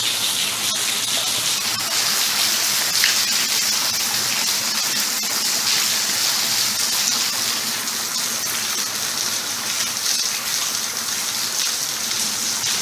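Heavy rain falls steadily on surfaces with a constant hiss and patter, loud and close with no pauses and no talking throughout.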